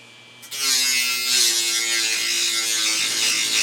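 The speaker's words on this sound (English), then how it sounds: "I got a Dremel here with a little grinding wheel on it." A Dremel fitted with a small grinding wheel starts up and grinds at a tubular rivet in a Piper Super Cub wing rib, a close, high, steady buzzing whine that holds without pause after a sudden start.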